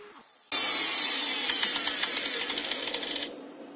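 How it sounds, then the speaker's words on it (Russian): A homemade CNC mill cutting aluminum with a two-flute spiral cutter gives a loud, steady high-pitched whine and hiss with rapid chattering ticks, starting abruptly and tapering off after about three seconds. "фреза четверка по алюминию, двухзубая, спиральная"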